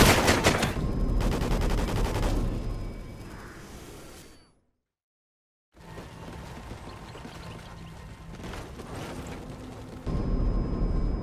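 Bursts of dense automatic gunfire in the Call of Duty video game, loud rapid volleys that cut to a second of silence before more shooting and whooshes resume.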